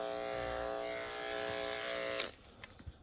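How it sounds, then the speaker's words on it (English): Sharpened A5 adjustable clipper blades cut through short fur with a steady close electric buzz that runs alone, then cuts off sharply, followed by a few soft clicks and handling thumps. "Even when I go in really hard, it's cutting that fur down to nothing."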